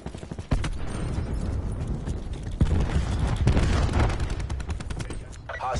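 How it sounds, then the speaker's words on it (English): A cluster grenade goes off in Black Ops 4, a dense scatter of loud, overlapping blasts and crackling gunfire-like pops that fill the whole stretch, with a sharp onset near the start. "Cluster grenade going out."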